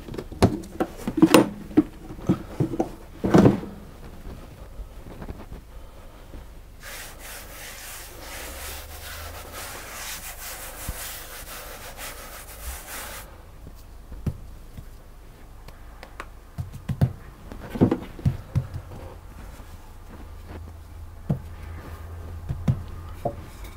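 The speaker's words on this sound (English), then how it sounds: "I'm going to roll it out to the thickness of about 3 millimeters, which is about 1/8 of an inch" A rolling pin works pastry dough for Maids of Honour tarts on a lightly floured surface, giving a soft rubbing swish with scattered knocks and taps of the pin and board, fairly quiet and close.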